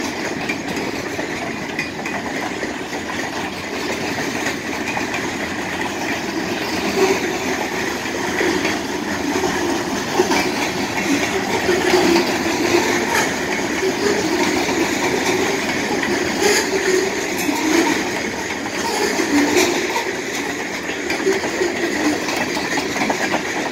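Montana Rail Link locomotives rumble past with a steady engine drone and rhythmic clickety-clack of railcars, continuing for over twenty seconds at moderate distance with no talking.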